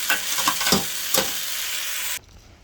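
Dried fish with alogbati and camote tops frying in a pan, a bright steady sizzle with a few scraping stir strokes early on, close and loud, cutting off abruptly near the end.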